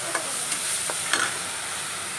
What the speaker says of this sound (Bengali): সব কিছু দিয়ে এই যে মশলাটা এখন কষা হইব